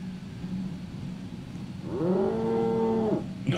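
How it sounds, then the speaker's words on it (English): An angry cow in the Roblox game Radiant Residents lets out a single drawn-out moo lasting about a second, rising over a steady engine-like background rumble. "An angry cow."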